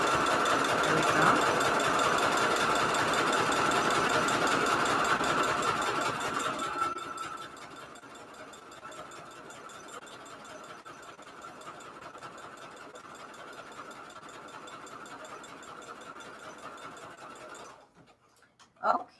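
A sewing machine stitches through a junk journal signature with a steady, buzzing whir that is loud at first, then drops to a quieter hum before stopping with a final clunk.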